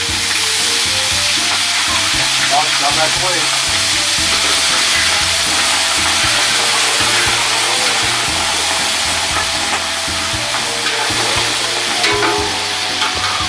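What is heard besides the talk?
fish frying in hot oil for fish and chips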